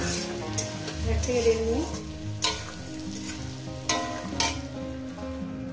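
Ginger and a katla fish head sautéed in a pan, a steady sizzle with scraping stirs and a few sharp clinks, while someone speaks briefly over the cooking.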